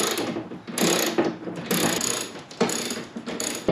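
A ratchet wrench works a bolt loose from a bar under the hood of a 2014-or-later Chevrolet Silverado during a brake booster and master cylinder job. Several bursts of rapid, close clicking come in repeated strokes, with no talk.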